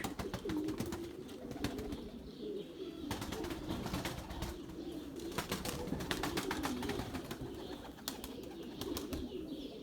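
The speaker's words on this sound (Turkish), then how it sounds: "Kuş beğendi kuş." Pigeons coo softly and repeatedly at a moderate distance in a loft setting, low throaty calls overlapping with faint rustling and occasional wing movement.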